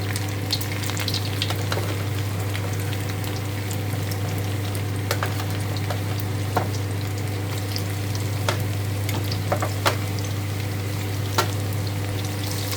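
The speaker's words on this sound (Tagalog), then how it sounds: "Prito lang natin ang ating carrots." Carrots frying in a kawali for a Filipino chicken curry, a continuous close sizzle with scattered crackles and pops over a steady low hum, with no talking.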